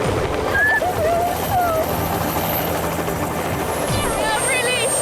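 Steady, loud rotor and engine drone of a helicopter fills the clip, with voices and birdlike chirps on top.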